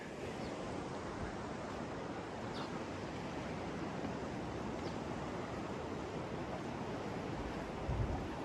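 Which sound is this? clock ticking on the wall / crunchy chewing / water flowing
water flowing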